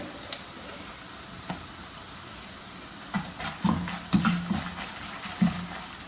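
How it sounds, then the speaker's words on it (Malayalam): Turmeric and hot chili powder sizzle faintly in oil over a low flame while making a bilimbi pickle, a soft steady hiss broken by a few light stirring knocks toward the end. "1/2 ടീസ്പൂൺ മഞ്ഞൾപ്പൊടി, 2 ടേബിൾ സ്പൂൺ എരിവുള്ള മുളക് പൊടി ചേർത്ത് കൊടുക്കുന്നുണ്ട്."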